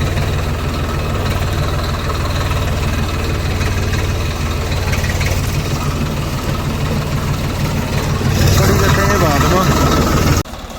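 A tractor engine idles on a farm, a steady low rumbling chug running throughout, briefly louder near the end before cutting off, with people talking over it.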